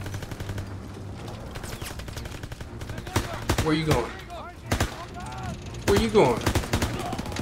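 Gunfire in the Call of Duty WWII campaign, with bursts of rapid automatic shots and single loud cracks against a steady in-game rumble, and someone talking briefly over it.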